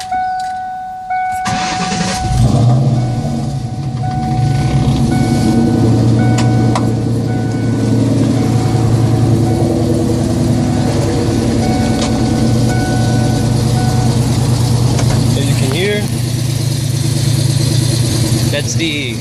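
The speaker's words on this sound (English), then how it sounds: "so this is a cold start on the Cobra" A 1997 Ford Mustang Cobra, bolt-on modified with an exhaust leak and EGR delete, cold starts: a short crank catches into a loud, close, rumbling high idle that holds steady, with a shift in tone near the end.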